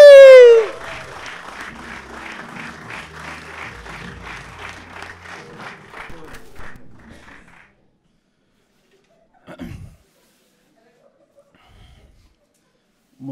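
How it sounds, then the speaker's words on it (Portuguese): A podcast audience claps for José Sola after a brief loud onset, a rhythmic run of applause that fades out, followed by near silence with a few faint stray sounds. "Então só palmas para José Sola!"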